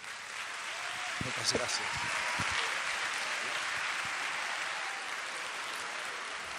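An audience at the Xaloc Christmas festival show applauds for a performer, a steady dense clapping that runs the whole time, with a voice briefly speaking over it.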